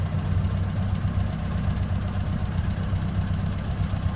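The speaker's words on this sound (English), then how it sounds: "we'll give it just a little bit more gas and bring it up to a fast idle for warming up" A 1928 Ford Model A Tudor sedan engine runs at a fast idle while warming up, a steady, loud, low rumbling drone with even pulsing throughout.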